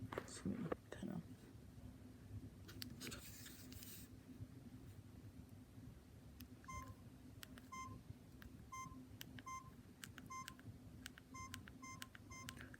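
A Samsung E1120 slate phone powers on with a series of short, evenly spaced electronic beeps over a quiet background, with soft murmuring and handling noise early on.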